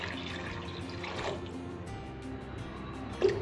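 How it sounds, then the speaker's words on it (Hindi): Water poured into a large cooking pot holding barley and wheat, a steady wet splashing and trickling up close with a brief louder splash near the end. "इसमें सबसे पहले मैं पानी डालूँगी 1 लीटर"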